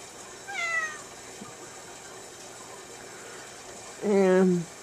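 A pet cat meows twice, a short call near the start and a louder, closer meow toward the end, with quiet pauses between and a low background hum.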